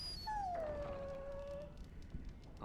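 A dog in the video game Dragon Age: Origins lets out a single long, high whimpering whine that slides slightly downward and fades, faint over a quiet background.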